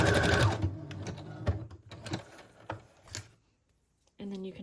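A sewing machine runs loosely over paper scraps, making junk-journal strips. It whirs in short stitching bursts and sharp mechanical clicks, with talking at the start and again at the end.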